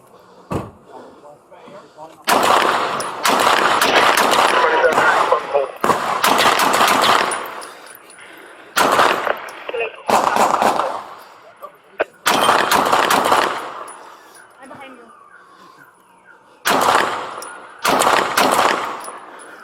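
Deputies trade gunfire with an armed suspect during a street shootout in City Terrace, East LA: loud, close bursts of rapid shots come in separate clusters with short pauses, and shouting voices are mixed in.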